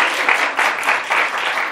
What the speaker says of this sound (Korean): 박수 치셔도 돼요